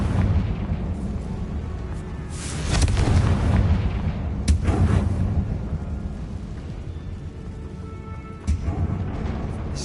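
Confringo fire spell from Hogwarts Legacy exploding repeatedly, with several sharp booming blasts and crackling bursts over a steady rumbling background, fairly loud and close.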